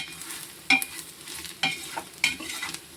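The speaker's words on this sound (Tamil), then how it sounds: "கொஞ்சம் நேரம் வதக்கிட்டு அதுக்கப்புறமா நம்ம உரப்பு காணலைன்னா போட்டுக்கலாம்" A spatula scrapes and stirs chili powder in a pan for mutton biryani, making three or four distinct sharp strokes over a soft, low background sizzle, close and without voices.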